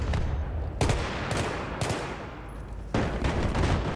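Battlefield 3 gunfire, loud repeated bursts of automatic fire in a few sharp volleys with brief gaps between them, close and dominating the mix.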